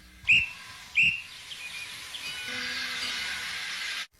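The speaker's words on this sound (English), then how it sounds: "that's the guard's whistle" A railway guard's whistle gives two short, shrill blasts close together, followed by a steady hiss of steam that runs on until it cuts off abruptly.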